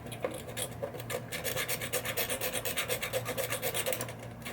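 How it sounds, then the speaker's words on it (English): Sanding down a wire on an electromechanical pinball light strip, a close, rhythmic rasping scrub repeating in quick even strokes, alone without talk. "I'm just going to sand down"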